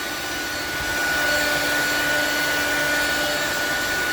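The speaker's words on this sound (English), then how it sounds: "That power supply is so loud." Power supply fan on a Z11 crypto-mining rig, a loud, constant high-pitched whooshing roar with a steady tonal whine, close and unbroken for the whole stretch with no talking.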